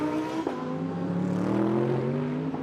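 A DTM race car, number 18 driven by Maxi Boog, runs at the Norisring street circuit during 2022 qualifying, its engine note holding a steady high-revving drone with a brief dip, loud and continuous.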